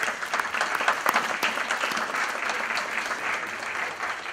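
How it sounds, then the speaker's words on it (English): Sustained audience applause fills a graduation ceremony hall, a dense, steady wash of many hands clapping at moderate distance with no voices standing out. "let's give them a round of applause for being here"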